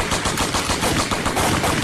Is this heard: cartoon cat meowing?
no